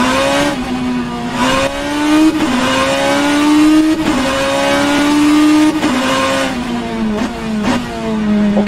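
A BMW M3 E92 GTE race car in the rFactor 2 racing game at Oschersleben screams loudly through repeated gear changes, its engine pitch climbing and dropping in steady upshift steps, alone without talk.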